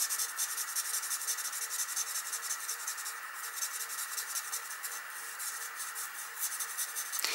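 Nuvo alcohol markers are rubbed back and forth over paper while colouring a sheet in its lightest shade, making a faint, steady, close scratchy scrubbing with an even rhythm.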